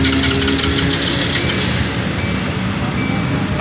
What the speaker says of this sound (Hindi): अब बाइक स्टार्ट हो गई है।